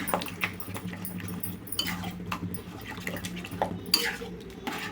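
Puri kurma mixture stirred in a metal pan, with repeated scraping and clinking of a spoon against the pan in an uneven rhythm, close and fairly loud, with no voices.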